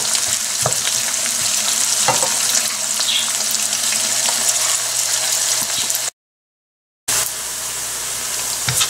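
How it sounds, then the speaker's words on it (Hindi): Onions fry in hot oil in a pan, a steady close sizzle with occasional stirring scrapes, briefly dropping out to silence before the frying resumes. "5 से 6 मिनट फ्राई करके इसको निकाल लूंगी।"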